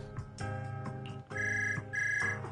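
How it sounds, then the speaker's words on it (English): A phone rings in Zenless Zone Zero, a bright electronic ringtone melody repeating in clear, steady phrases, fairly quiet, with no voices over it. "Suddenly a phone rings."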